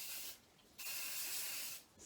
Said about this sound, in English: I just sprayed it with some cooking spray because it helps to stop the honey sticking